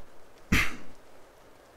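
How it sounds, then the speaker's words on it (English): During a calm medical physical exam, a single short throat clearing breaks a quiet room, close and brief. "like you're clearing your throat."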